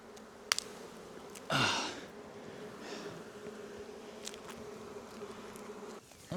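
Honey bees from a swarming hive hum and fan in a dense, continuous drone, close by, with a brief louder swell as bees pass near and a few faint knocks, no voices.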